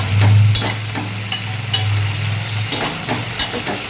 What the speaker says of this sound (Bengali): তো আলু দিয়ে আমি ভালো করে আবার কিছুক্ষণ ধরে নেড়ে চেড়ে নেব।